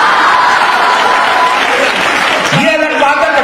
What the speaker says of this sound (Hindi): कविता का पावरफुल पंच देता हूं और आपकी भरपूर तालियां चाहता हूं